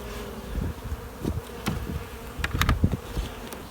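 Honey bees buzz steadily around a strong beehive colony, traffic moving in and out of the front entrance, with louder swells as individual bees fly close past.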